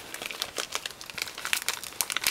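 A plastic sticker storage bag crinkles close up in a rapid, continuous run of sharp rustles, with no voices.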